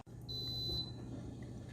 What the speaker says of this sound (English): it beeps at you when it's done